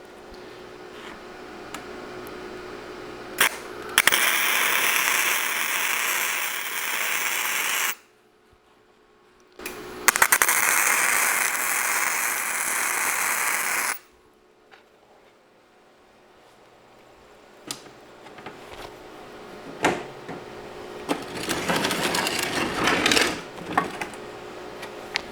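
A bench vise being tack welded at its corners: two sustained crackling, hissing arc bursts of about four seconds each, close and loud, separated by quieter shop noise and a few small clicks, with no talking.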